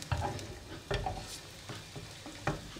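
Garlic cloves sautéing gently in a pan with a soft, steady sizzle, broken by a few stirring scrapes, close and moderately quiet with no talking.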